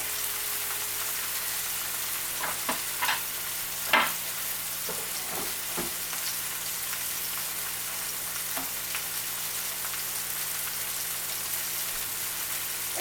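Onion sautéing in a pan, a steady soft sizzle with scattered brief pops and spatters, close by and fairly quiet, no talking.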